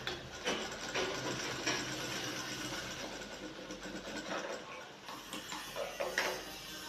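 A sewing machine stitches a collared shirt with a large stitch, a steady mechanical whir of rapid clicks running throughout, fairly close and alone with no talking.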